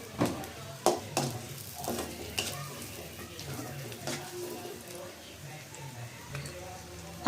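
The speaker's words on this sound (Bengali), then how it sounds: "এখানে আমি একটু ভাজা দিয়ে নিব পেঁয়াজ মরিচ" Onion and green chilli frying in a pan, a soft crackling sizzle with scattered stirring clicks and scrapes running steadily at close range, a couple of sharper knocks near the start.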